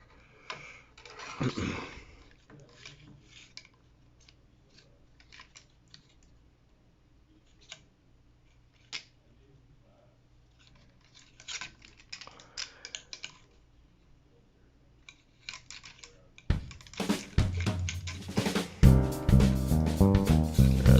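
A plastic Transformers Prime Voyager Class Optimus Prime figure is worked by hand, making scattered close clicks and snaps of its joints and parts, with a busier run of ratcheting clicks near the end.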